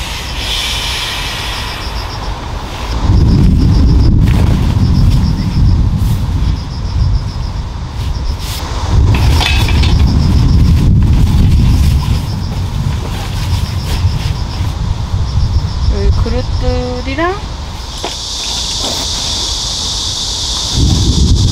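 Thunder rolls through a heavy all-day rainstorm at a campsite near a tent, with long deep rumbles rising and fading under constant loud rain hiss, heard with no talk.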